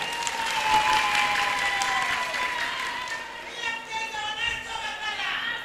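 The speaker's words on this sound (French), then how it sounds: "je vous demande d'applaudir très fort" An audience at a weekly UFDG party general assembly applauds loudly with sustained dense clapping, while a faint voice and some crowd sound run underneath.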